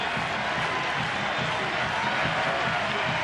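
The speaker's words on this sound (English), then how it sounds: "many of them on their feet, stomping and clapping, hoping to see Sizemore send us home happy" Baseball crowd of about 15,000 stomping and clapping in a steady, dense roar through the bottom of the 10th inning, spread wide and constant across the stands with no distinct voices standing out.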